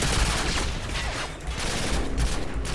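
Dense gunfire from a Modern Warfare 2 match played on PC, a loud continuous fusillade of overlapping shots and bursts running throughout with no talk.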